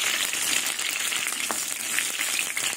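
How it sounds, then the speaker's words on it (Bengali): Cauliflower florets fry in hot oil in a pan, giving a steady, bright sizzle close by with a few faint stirring clicks and no talking. "ফুলকপি একদম লাল লাল করে ভেজে নেবো বন্ধুরা"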